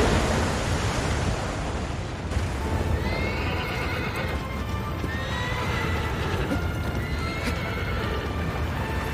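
A horse in the video game Shadow of the Colossus gallops with steady clip-clop hooves and lets out repeated whinnies over a constant rushing wind-like background, loud and close throughout.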